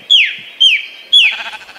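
Sheep in Minecraft bleat loudly and close up, three short wavering calls in a row with brief gaps, the last one cut off at the end, with no other sounds.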